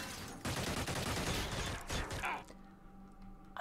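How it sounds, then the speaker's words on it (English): Dense bursts of machine gun fire in the tactical game Xenonauts, a rapid rattling volley for about two seconds that cuts off abruptly, followed by quieter mechanical clicks and a faint hum. "it's machine gun fire like everywhere"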